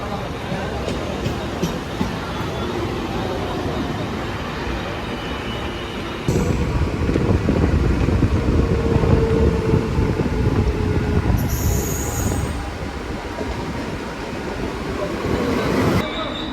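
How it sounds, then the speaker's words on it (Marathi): A train rumbles steadily on the tracks arriving at Chhatrapati Shivaji Maharaj Terminus, growing louder midway with a brief high squeal of wheels or brakes, under a busy station's background noise. "सहा पंचावन्न ट्रेन आलेली आपली"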